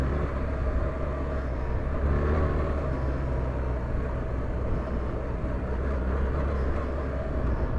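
A BMW R1300GS motorcycle, a 540-pound adventure bike, rides off-road with a steady, loud engine rumble and constant wind and road noise.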